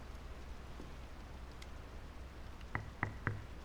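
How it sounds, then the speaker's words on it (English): Rain falls steadily in the video game Draugen, a soft continuous hiss with a few louder drips and taps near the end, no voices. "The rain's picking up."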